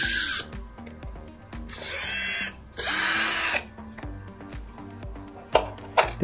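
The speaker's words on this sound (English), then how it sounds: "I'm using hand drill. This is chargeable hand drill actually." A chargeable cordless hand drill spins out the back screws of an old multimeter, with three or four bursts of loud whirring separated by clicks and handling clatter.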